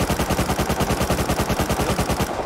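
Loud, rapid automatic gunfire in the Rust video game during a base raid, a continuous fast burst of evenly spaced shots with no pause, and no voices over it.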